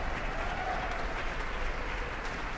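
A Symphony Hall audience keeps clapping for the Boston University Symphony Orchestra and chorus, a thick, even roar of many hands at steady volume throughout, with faint crowd murmur mixed in.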